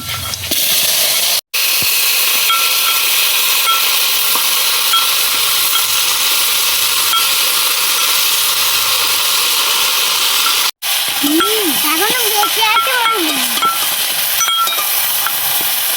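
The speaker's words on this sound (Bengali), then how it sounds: "শুকনো লঙ্কা সুন্দর কালার চলে এসছে, এবার পাঁচফোড়ন দিয়ে দিচ্ছি" Dry red chillies and panch phoron seeds frying in hot oil for a village-style sour-spicy-sweet jujube pickle, giving a steady loud sizzle and hiss throughout with brief dropouts, and stirring clatter near the end.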